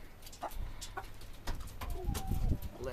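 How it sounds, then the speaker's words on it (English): Chickens clucking softly while eating their evening feed in a backyard flock, scattered short clucks and pecking noises at low volume with a faint outdoor background. "So, chickens are enjoying their dinner."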